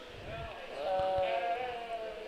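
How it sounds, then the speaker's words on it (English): A Suffolk sheep gives a single short bleat at a 4-H livestock show, set against the hall's murmur. "Junior member number 107, McKenna Barnett with a Suffolk Sheep"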